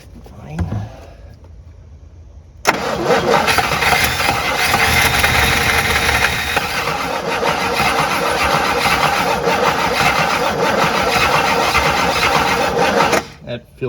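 The engine of an abandoned 1958 Super car cranks briefly and catches. It then runs loud and close with a steady, rough roar for about ten seconds before cutting off, and faint voices are heard before it starts.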